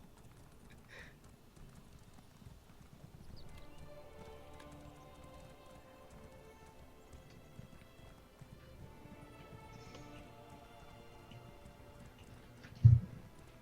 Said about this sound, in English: I've got a very, very fast horse